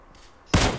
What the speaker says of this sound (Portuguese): olha o tamanho do tiro